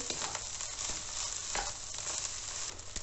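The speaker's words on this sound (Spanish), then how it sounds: "Mezclamos bien" Chicken fried rice (arroz chaufa) being stirred in a hot pan, with a steady loud sizzle of frying and occasional scraping strokes of the spoon throughout.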